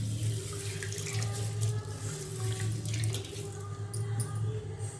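Green gram lentils washed under a running kitchen tap, with a steady close stream of water splashing into a sink and rinsing the grains throughout, no talking.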